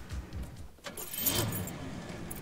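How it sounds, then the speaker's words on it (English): A bunch of keys jingles briefly and close by over a quiet car interior hum, with a short metallic rattle and no speech. "Oh, there's the keys"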